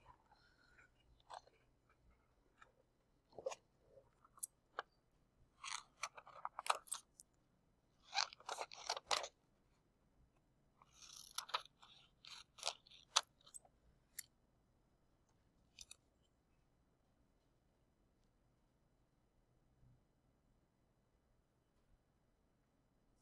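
Scissors snipping through paper for a collage, quiet close-up bursts of crisp cuts and crunchy slicing in short clusters separated by pauses, faint and intimate with no talking.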